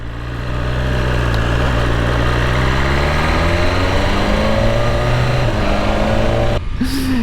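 A 2022 BMW S1000RR motorcycle engine running up close, a loud steady drone with a harmonic whine that slowly climbs in pitch before cutting off abruptly near the end, followed by a brief rising tone.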